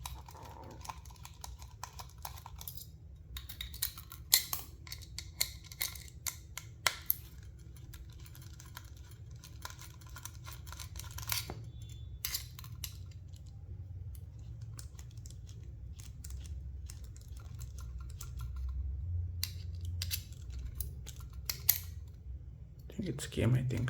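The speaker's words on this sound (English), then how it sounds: "Okay, just I need to remove the screws and all." Small screws being backed out of a 2.5-inch laptop hard drive during a teardown, giving faint scattered clicks and scratchy metal taps over a low steady hum, with occasional louder ticks.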